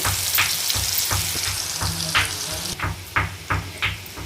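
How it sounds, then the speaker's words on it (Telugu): Ginger and turmeric frying in oil for broiler chicken pickle, a constant close sizzle with a run of spatula scrapes and stirring strokes growing more frequent toward the end, no speech. "పసుపు కూడా అల్లం పసుపు పచ్చి వాసన పోయేంత వరకు మంచిగా వేయించుకోవాలి"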